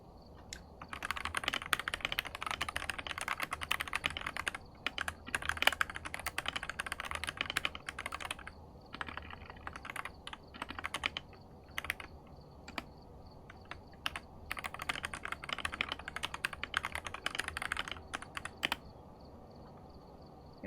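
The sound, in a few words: typing on a loud clicky computer keyboard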